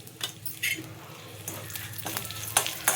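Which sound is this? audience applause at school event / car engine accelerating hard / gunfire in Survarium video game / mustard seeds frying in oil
mustard seeds frying in oil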